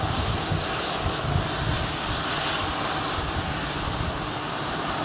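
Jet engines of a Singapore Airlines Boeing 777 on runway 27R at London Heathrow rumble in a broad, steady roar, fairly close and continuous with slight fluctuations, and no speech over it.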